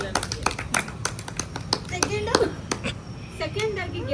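A group claps for the winner of a no-laughing challenge game, quick uneven hand claps ringing out close by across the whole stretch, with voices talking over them.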